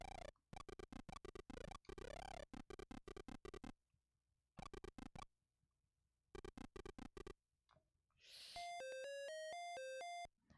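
Electronic bell rings out in an Apple II video game: a bright series of chiming, stepped tones near the end, after bursts of harsh buzzing game noise and brief silences.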